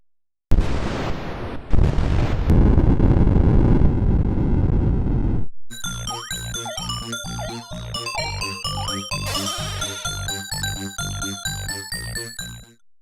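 In the Phoenix arcade game, the alien mothership is destroyed with a burst of loud, crackling electronic explosion noise lasting several seconds. A pulsing, bleeping synthesized jingle follows and fades out at the end.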